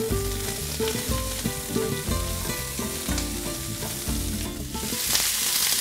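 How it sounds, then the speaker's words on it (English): Bell peppers and poblano peppers tossed in a hot frying pan give off a steady close sizzle, with stirring clatter underneath and background music throughout. "So I'm tossing all these in, and we're just going to toss them around."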